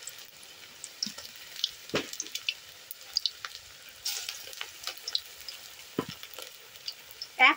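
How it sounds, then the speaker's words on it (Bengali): Cauliflower and shrimp pakoras fry in hot oil, giving a steady close sizzle with scattered sharp crackles and pops. A few louder spits stand out near the end. "পকোড়াগুলোকে তেলের মধ্যে একটু ছাড় ছাড় করে ফেলতে হবে যেন গায়ে গায়ে লেগে না যায়"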